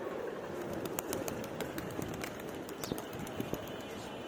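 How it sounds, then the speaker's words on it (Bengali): A flock of loft pigeons takes off, with quick soft wing flaps and faint bird calls, distant and quiet against a low background hiss. "আবার কতগুলো কবুতর উড়াল দিছে"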